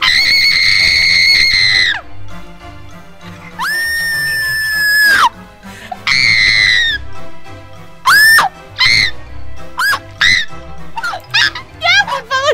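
A child screams loudly and shrilly in a string of long, sustained shrieks, then shorter rapid yelps, right up close with little pause between them.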